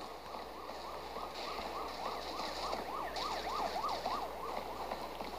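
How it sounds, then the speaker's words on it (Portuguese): A wailing siren in the video game Critical Ops sweeps up and down repeatedly, rising and falling in a fast rhythm, fairly distant and faint under a low background rumble. "Só o barulho da sirene"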